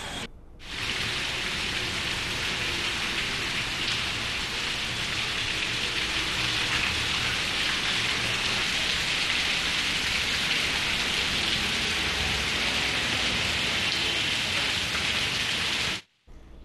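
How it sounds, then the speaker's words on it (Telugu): Heavy, unrelenting rain lashes Hyderabad in a dense, loud, uniform roar that starts abruptly and cuts off near the end, with no voices over it. "హైదరాబాద్లో ఎడతెరిపి లేకుండా వర్షం కురుస్తోంది"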